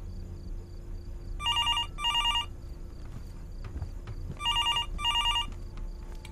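A telephone in the horror game Fears To Fathom: Norwood Hitchhike rings in two bursts of paired electronic trills over a low ambient hum, fairly close and clear, with no voices.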